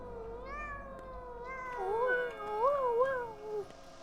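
A cat meows repeatedly in the video game Pathologic 2, drawn-out tonal calls rising and bending, growing louder and more insistent toward the end, fairly close and alone.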